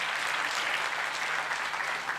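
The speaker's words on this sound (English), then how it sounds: "Big round of applause," A crowd applauds at the opening ceremony of the 22nd AfWASA Congress, a brief, even burst of many clapping hands lasting about two seconds.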